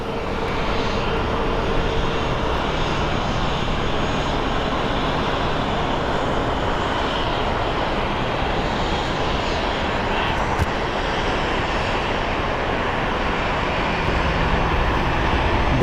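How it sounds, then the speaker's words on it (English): Steady, loud jet engine roar from a Delta Airbus A321 during pushback at Phoenix Sky Harbor Airport, a continuous broadband whine and rumble holding level throughout, with no voices. "Pushback of a beautiful Delta as we await this Embraer to depart."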